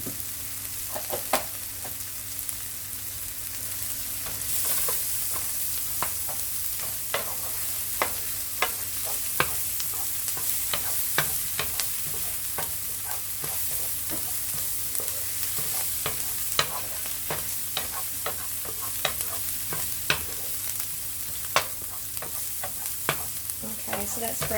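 Mushrooms and other ingredients browning in butter for mushroom soup, a soft steady sizzle under frequent quick scraping stirs and light utensil taps, close and unaccompanied by speech.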